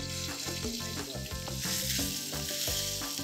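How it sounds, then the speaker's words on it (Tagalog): Ginger toasting in hot cooking oil gives a constant bright sizzle, close and full, with music playing underneath throughout. "Medyo ito-toast natin para talagang lumabas yung flavor ng ating luya"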